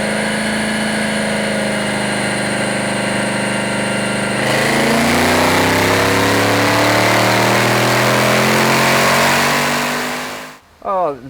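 A car engine runs on an engine dyno at a performance tuning shop, holding a steady drone before revving up into a loud, rising sweep, then cutting off abruptly near the end.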